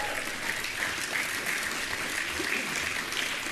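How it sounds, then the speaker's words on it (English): Audience at a formal speaking event applauding steadily and evenly for several seconds, dense clapping from a large room with no talk over it. "Applause."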